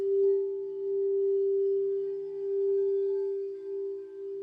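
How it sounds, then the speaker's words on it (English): Two sustained tones hold together as a steady, harmonizing hum, clear and even for the whole stretch with no voices. "Like with music, like with these two tones."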